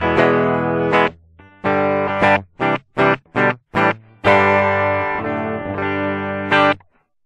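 Electric guitar played through a BOSS GT-1000 drive patch, loud distorted sustained chords broken by a run of short choppy stabs, then a long ringing chord fading out alone.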